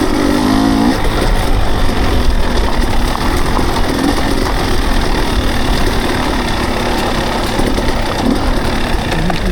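Off-road motorcycle engine at Carnegie SVRA, a loud, steady, close drone with faint revving throughout, with no voices over it.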